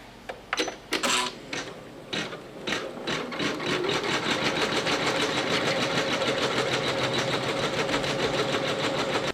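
Embroidery machine stitching a felt teddy bear design in the hoop, a few sharp clacks at first, then a steady fast buzzing, rattling stitch rhythm running continuously close by.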